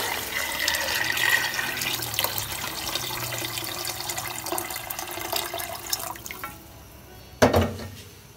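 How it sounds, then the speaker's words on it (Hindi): Chicken stock (yakhni) pours into a pot for chicken corn soup, a steady liquid splashing and trickling for several seconds that stops, then a single sharp clunk near the end. "अब हम डालेंगे इसमें यखनी"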